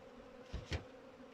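Honeybees buzzing around a hive during winter sugar feeding, a steady faint hum with two brief louder swells as bees pass close.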